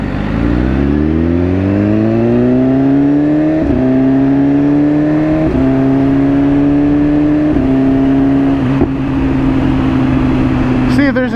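BMW S1000RR motorcycle riding in traffic, its engine close and loud, pitch rising in a series of upshifts with brief dips between gears, then settling into a steady drone.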